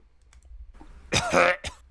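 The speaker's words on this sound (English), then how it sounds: "that sounds like me coughing" A single harsh cough bursts out after a quiet moment, followed by a short second rasp.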